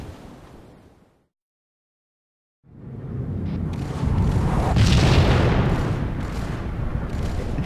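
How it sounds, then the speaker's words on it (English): Booming gunfire and explosions from the video game Halo, a brief dense volley, then a gap of silence before a sustained roaring barrage of heavy blasts and shots builds and continues loudly to the end. "Day four and they're still firing."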